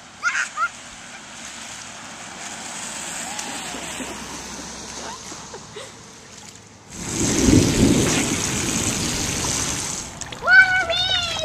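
Rain pours down outdoors on a cold day, a steady hiss that grows heavier partway through, with splashing and voices talking over it.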